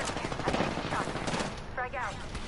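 Gunfire in a battle royale video game match: rapid bursts of automatic weapon shots crackle steadily and loudly, with a brief bit of voice chat mixed in.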